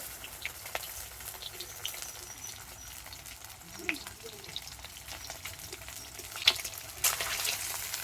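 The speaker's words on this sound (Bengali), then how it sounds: "দুটো দুটো করে নিয়ে ডিমগুলোকে তেলের মধ্যে খুব ভালো করে ভেজে নেব" Eggs frying two at a time in hot oil, a soft continuous sizzle and crackle with occasional small pops and a brief clatter of a utensil, faint and close throughout.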